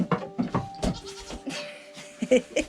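Goats bleat repeatedly at milking time, several short nasal calls overlapping at close range, with brief pauses between them.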